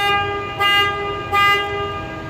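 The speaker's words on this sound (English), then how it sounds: "Alarm still works." The alarm on a 2011 Ford Ranger 4.0 4x4 gives two short, loud electronic chirps about three-quarters of a second apart, heard up close with no one talking.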